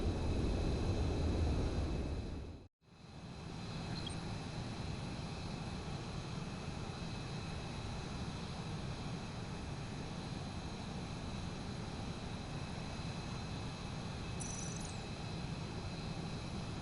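A steady airplane engine drones in a flight video game, a loud continuous roar with a whining tone on top, briefly dropping out to silence before resuming at an even level.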